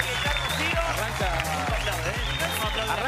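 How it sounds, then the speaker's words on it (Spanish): Studio audience of a Spanish-language entertainment show claps for Rocío Robles, a continuous dense round of applause under a loud, rhythmic thumping music beat. "Fuerte el aplauso para Rocío Robles"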